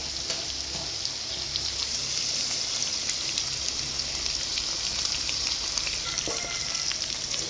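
Garlic and coriander fry in hot oil with salt and masala, giving a steady, close hiss and crackle that holds evenly throughout, with no voices.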